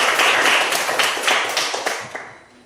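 A classroom of students claps for a classmate named Rihartati during a Christian religious education lesson, a short burst of scattered hand claps that thins out and fades over a few seconds.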